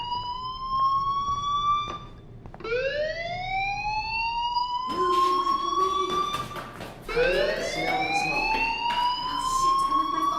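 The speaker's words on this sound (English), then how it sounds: "do you hear that fire alarm? That means you should be outside." A fire alarm blares inside a Life is Strange game scene, its rising, wailing electronic tones repeating loud and close in several long sweeps with brief gaps between them.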